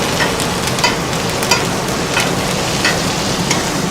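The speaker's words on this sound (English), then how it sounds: "we're just gonna baste so that we have flavor, more flavor onto the steak" Steak sizzles steadily on a barbecue grill while being basted, a loud, close, continuous crackling hiss with small pops throughout and no talking.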